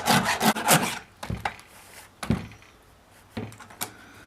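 A hand file rasps across chainsaw chain teeth in a quick burst of strokes, then several separate scraping strokes with pauses between, close and fairly loud.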